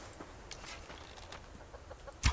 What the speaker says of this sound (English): There is a chicken.